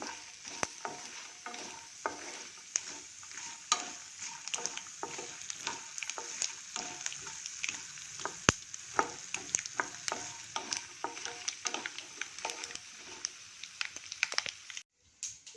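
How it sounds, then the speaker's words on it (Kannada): Makhana (fox nuts) fry in a pan, giving a soft steady sizzle under frequent light clicks and scrapes as they are stirred, fairly quiet and close, with a brief drop near the end. "ಸ್ವಲ್ಪ ಮಕಾನ ಹಾಕ್ತಾಯಿದ್ದೀನಿ. ಇದು ಸ್ವಲ್ಪ ಫ್ರೈ ಆಗಲಿ."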